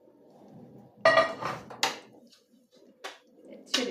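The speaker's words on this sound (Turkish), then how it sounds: "köftelerimizi şöyle çorbamızın içine katıyoruz" Soft clinks and knocks of meatballs dropped into a pot of soup, a few separate bumps with brief metallic clatter over a quiet kitchen background.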